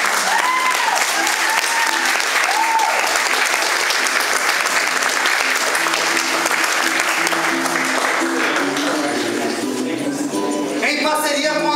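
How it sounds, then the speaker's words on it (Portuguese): An audience applauds at the end of a ballet performance of Nau Catarineta. Dense clapping continues loud and unbroken throughout, with voices and some tonal sounds mixing in near the end. "Palmas para vocês."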